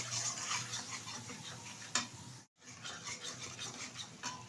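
Katla fish being sautéed with chilli powder in a pan, a steady soft sizzle with a spoon stirring and scraping against the metal, heard close, broken by a brief gap midway, with no talk.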